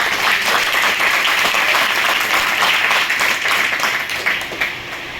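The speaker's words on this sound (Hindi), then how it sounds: "बात करें इसके लिए जोरदार ताली दीजिए" An audience at a Swachhata Hi Seva 2024 event at NSTI Howrah claps loudly and steadily, a dense, continuous burst of applause that eases slightly toward the end.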